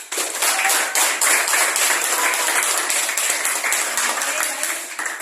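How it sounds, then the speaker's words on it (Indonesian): A classroom full of students bursts into applause, dense and lively, holding steady for several seconds before it begins to taper off. "mari sama-sama kita berikan aplaus untuk dia"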